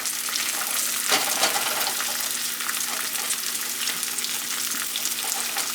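Zucchini flowers fry in a pan, a steady close sizzle and crackle of hot oil filling the whole stretch with small pops, no talking.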